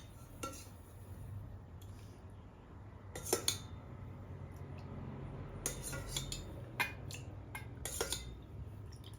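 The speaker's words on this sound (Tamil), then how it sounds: "இந்த மீதி சாதத்தில் கொஞ்சம் தயிர் ஊற்றி பிசைஞ்சிக்கலாம்." Leftover cooked rice mixed by hand with curd in a metal dish for fermented rice porridge, giving faint, soft squelching under a low room hum and a few sharp clinks of utensils against the vessel.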